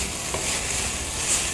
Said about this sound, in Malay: Anda boleh balik-balikkannya ataupun telah meratakannya supaya semua rasa daripada bahan kisaran meresap ke dalam paku pakis.